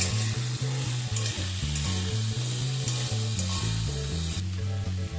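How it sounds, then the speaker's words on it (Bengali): Potato and papaya pieces sizzle in hot oil in a pan with salt and turmeric, a steady crackling hiss running under loud background music throughout. "হালকা করে সমস্ত কিছু একটু ভেজে নেব।"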